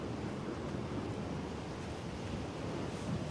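Wind sweeps steadily through a scene in the video game Dragon's Dogma: Dark Arisen, a constant, fairly loud broadband rush with no letup and no voices over it.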